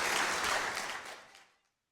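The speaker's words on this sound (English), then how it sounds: "Round of applause" Round of applause from a small audience at a nail art competition judging panel, clapping strongly at first and then fading out to silence within about a second and a half.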